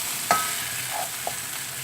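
A spoon stirs coriander masala in a frying pan for an egg puff pastry filling, with a steady sizzle throughout and a few soft scrapes and taps against the pan.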